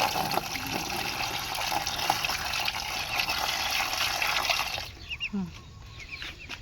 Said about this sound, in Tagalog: Yung mga maliliit na pata, lagyan natin tubig.